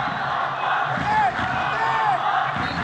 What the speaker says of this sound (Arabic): هون عم نسمع صوت الجمهور الفلسطيني اللي عم يشجع المنتخب